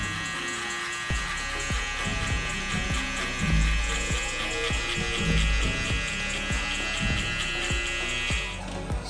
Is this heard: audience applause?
no